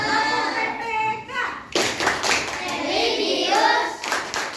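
A classroom group claps the rhythmic tepuk PPK cheer, sharp bursts of hand claps in patterned clusters mixed with voices chanting along at close range.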